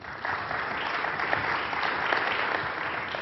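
An audience at a talk applauds to welcome a speaker, sustained, full clapping from a sizeable crowd that holds steady at fairly close range.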